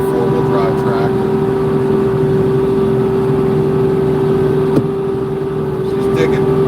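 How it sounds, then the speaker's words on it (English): A Kubota LX2620 four-wheel-drive compact tractor plows snow in a big snowstorm, its engine humming loudly and steadily with a constant whine and a faint knock midway. "This is a 4-wheel drive tractor."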